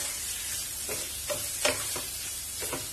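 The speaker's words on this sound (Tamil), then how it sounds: "ஹை ஹீட்லயே வச்சுட்டு நல்லா இந்த மாதிரி சாட்டே பண்ணுங்க." Chicken breast pieces and garlic sauté in a pan over high heat, giving a steady close sizzle broken by a few short scraping stirs of the spoon, with no talking over it.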